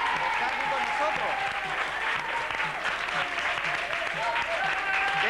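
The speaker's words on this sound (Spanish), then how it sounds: "vamos a darle un fuerte aplauso a ella también" Studio audience on a 1996 Jerez local TV show, Guati Guati, breaks into sustained, dense applause that holds steady and loud throughout, with talk and cheering voices mixed in beneath.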